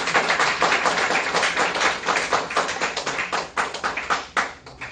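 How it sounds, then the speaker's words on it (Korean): A lecture audience claps together at a history talk on the background of Korea's division, a dense, steady patter of many hands that carries on for several seconds and thins slightly toward the end. "박수나 한번 치셔."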